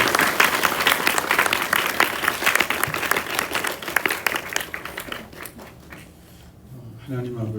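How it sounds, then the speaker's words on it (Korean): Congregation applause welcoming a pastor to the pulpit at a Korean church service: dense, sustained clapping from a crowd, loud at first and gradually thinning out, with a voice beginning to speak as it fades. "박수로 환영하겠습니다."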